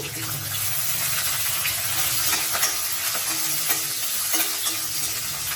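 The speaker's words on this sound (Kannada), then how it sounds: "ಇವೆಲ್ಲ ಸ್ವಲ್ಪ ಫ್ರೈ ಆಗಲಿಪ್ಪ" Curry leaves, green chillies and cashews frying in oil with mustard seeds, a close, continuous crackling sizzle with faint stirring scrapes throughout.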